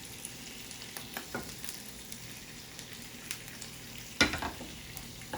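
Pasta with pesto is tossed in a hot pan over medium heat, giving a low, steady sizzle with light scraping and stirring taps and one louder clatter near the end, close and quiet, no voices.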